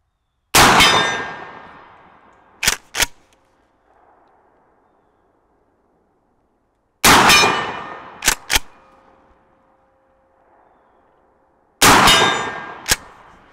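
Maverick 88 shotgun with rifled barrel fires Brenneke sabot slugs at a steel target 50 yards off: three loud booming shots, each followed a moment later by sharp metallic clangs of slugs striking the distant steel, with fading echoes between.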